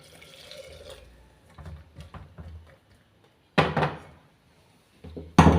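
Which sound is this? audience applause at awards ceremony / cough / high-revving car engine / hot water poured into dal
hot water poured into dal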